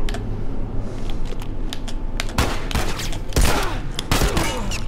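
Gunfire in the video game The Last of Us: a scatter of sharp shots and rapid cracks, a few louder close bursts in the second half, over steady background ambience with no talk.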